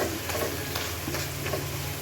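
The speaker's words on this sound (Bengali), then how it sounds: "এখন একটু ডাল ঘুটনি দিয়ে একটু ঘুটে নিই" Onion and tomato being mashed with a dal masher into a simmering curry, a steady bubbling sizzle with a few soft stirring knocks throughout, close and continuous.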